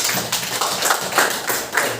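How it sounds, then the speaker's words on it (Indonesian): Classroom applause for the first group, a short burst of many hands clapping in a dense, even patter at close range. "tepuk tangan untuk kelompok pertama"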